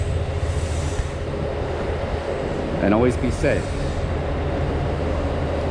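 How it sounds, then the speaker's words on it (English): A train rumbles past steadily with a low continuous roar and a brief metallic squeal near a large tunnel along the Susquehanna River, while a person speaks briefly over it. "There's a train."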